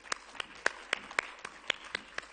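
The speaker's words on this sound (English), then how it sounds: "A big round of applause for her." Sparse, separate claps from a small audience at a World Economic Forum plenary session welcoming a woman to the stage, about ten distinct hand claps spaced irregularly and fairly quiet, with no talking over them.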